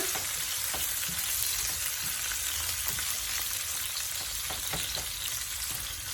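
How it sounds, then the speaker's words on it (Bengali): Thick-cut onions sizzle in a pan with cardamom and whole cumin, a steady crackling hiss broken by occasional stirring clicks and scrapes, fairly close and with no talking. "একটু অপেক্ষা করবো পেঁয়াজগুলো লাল লাল করে ভাজার জন্য"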